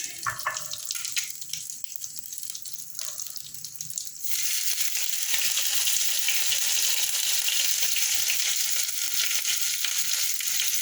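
Anchovies with tomato paste fry in a pan, starting with softer crackling and stirring, then swelling into a loud, continuous spattering sizzle that holds steady to the end.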